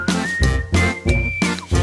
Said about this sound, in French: je sifflerai après ça